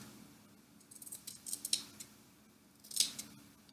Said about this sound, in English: So in order to cut the hem, I'm just, again, cutting through